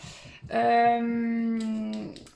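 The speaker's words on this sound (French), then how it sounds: "Si vous entendez du bruit derrière, c'est les chiens qui grognent." A dog in the background gives one drawn-out, tonal whining howl lasting about a second and a half, fairly loud, with faint scuffling before and after.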